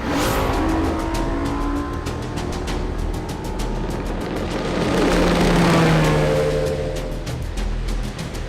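A powerful 2016 Nitro Z20 motorboat engine roars and revs steadily as it accelerates on water, with rushing wash and wind noise around it, loud and close throughout.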